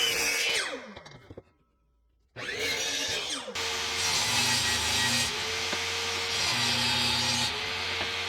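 Power saw cutting wood parts for a table saw stand in a workshop: a loud blade whine that drops away into a brief silence, then restarts and bites into the wood with a sustained, close, buzzing cut.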